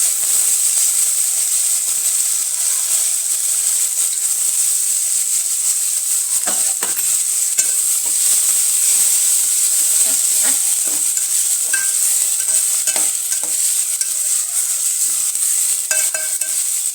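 Peas and vegetables fry in oil tempered with mustard seeds, cumin and curry leaves, a steady close sizzle and hiss throughout with occasional soft stirring clicks and pops.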